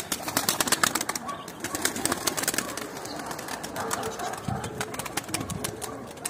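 Pigeons cooing and fluttering nearby in a busy, continuous chorus, with occasional wing flaps and a faint voice in the background.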